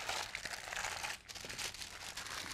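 Paper crinkles and crumples as a guide sheet is folded around and tucked under a baking tray, a close, continuous rustle with a brief pause in the middle.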